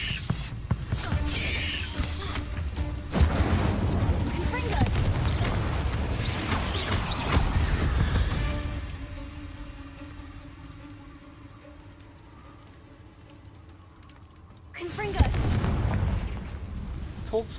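Incendio fire spells blast repeatedly in a cave in Hogwarts Legacy, with loud roaring, booming bursts, a quieter lull, and then another fiery blast, alongside other game effects and some speech.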